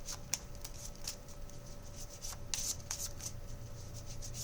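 A deck of playing cards being shuffled by hand, quiet riffles and soft rubbing bursts recurring every half second or so against a low steady hum, close and alone without talk.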